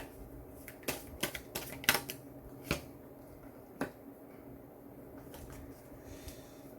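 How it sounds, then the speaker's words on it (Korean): Tarot cards are shuffled and drawn by hand, giving quiet scattered snaps and flicks of card stock, a cluster of crisp clicks followed by a few isolated taps, close and soft. "그리고 제가 보는 카드 또 한 장 뽑아보도록 하겠습니다"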